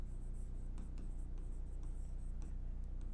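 Pen or marker writing out an equation during a Class 10 arithmetic progression maths lesson, a steady soft scratching with a few short strokes, close and quiet over a low hum, with no talking.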